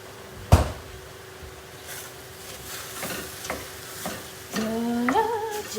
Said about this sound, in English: So we want the pan to char off, and we want these veggies to be charred